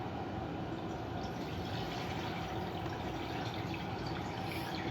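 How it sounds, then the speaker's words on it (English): Steady water pouring into a container of lima beans for canning, a continuous broadband splashing stream with no pauses, fairly close. "I will add a little bit of water to it"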